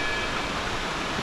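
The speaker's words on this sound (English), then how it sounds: "From this point, you can hear the water flowing down" Water rushes steadily down a forest stream near Tiger's Nest monastery in Bhutan, a continuous broadband roar without pauses.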